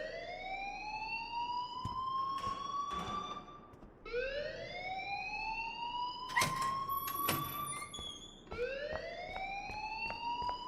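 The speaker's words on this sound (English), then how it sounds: "please turn off that alarm since that's your job" A fire alarm rings in the video game Life Is Strange, a steady electronic siren tone repeating in three long rising sweeps, loud and unbroken across the whole stretch with no talk over it.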